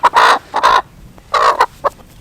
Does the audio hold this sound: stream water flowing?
no